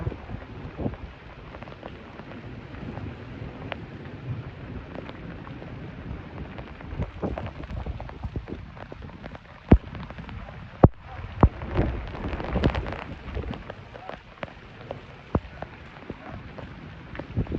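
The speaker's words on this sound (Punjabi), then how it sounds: "ਮੀਂਹ ਦੀ ਐਡੀ ਸੋਹਣੀ ਆਵਾਜ਼" Steady summer monsoon rain patters on surfaces all around in a Punjabi village, with occasional louder drops and knocks standing out from the continuous hiss.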